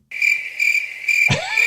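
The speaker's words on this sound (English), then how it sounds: "Right, crickets." Crickets chirp loudly and up close in steady, evenly spaced pulsing trills, briefly interrupted by a low thud.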